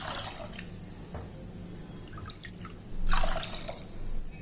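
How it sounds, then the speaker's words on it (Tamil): Two cups of water poured into a pot of horse gram, heard as a few dripping, splashing bursts of liquid over a low steady background hum, with no one talking. "இப்போ அதே கப்பில் இப்போ 2 கப்பு தண்ணி ஊற்றிக்கிடுவோம்."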